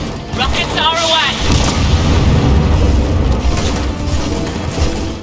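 Rockets fired during Gears of War 4 combat: a loud whooshing launch followed by heavy, sustained booming blasts and rumble, close and dense, with a brief voice early on.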